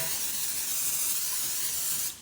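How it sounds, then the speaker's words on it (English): Baking spray hisses steadily from a can onto a pizza pan at close range, one continuous spray for about two seconds that cuts off sharply at the end, with no talking over it. "we're just gonna coat it with a little bit of baking spray"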